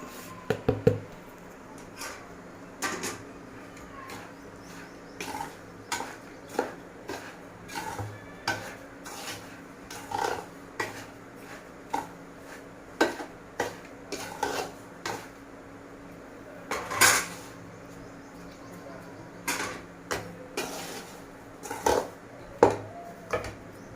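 Coconut, almonds and cashews stirred into semolina in a pot, heard as scattered scraping and clinking of a spoon against the metal, soft and close, in short irregular bursts without talk.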